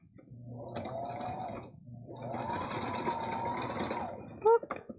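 A sewing machine stitches T-shirt fabric in two close, whirring runs separated by a short pause, followed by a brief squeak.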